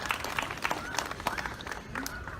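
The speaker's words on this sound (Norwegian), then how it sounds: "Vi klapper for den klemmen også." An audience at a #MillionsMissing gathering in Stavanger applauds with scattered, overlapping claps at moderate distance, while voices murmur faintly underneath.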